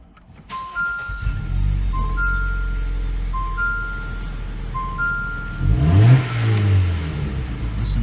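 A 2018 Jeep Renegade fitted with a performance intake and exhaust, heard from inside the cabin over a steady low engine drone, then one loud rev swelling near the end before settling back; a repeating two-tone chime sounds throughout.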